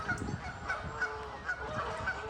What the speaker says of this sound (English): And as you can hear them ducks in the background going crazy.